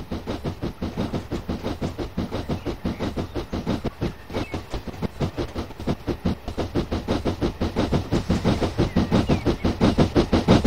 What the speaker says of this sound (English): Let's see how fast it takes that train to run me over.